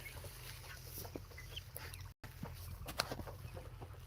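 Poultry-farm broiler chickens about sixteen days old on litter, scattered soft clucks and chirps over a steady low hum of the shed, with a brief dropout midway and no talk.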